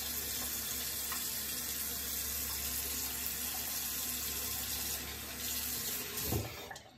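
A razor, a Razorock Gamechanger, rinsed under a steadily running tap, with an even rush of water filling the whole clip and a brief splash of handling near the end.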